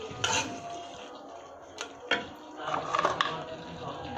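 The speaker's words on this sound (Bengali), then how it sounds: "এবার এর ভিতরে আমি আলু ফালি করে রেখেছি, ভালো করে কষিয়ে নেব।" Sliced potatoes being stir-fried with ginger and garlic in a pan for a koi fish and potato curry, with scattered clinks and scrapes of a utensil against the pan over a low background.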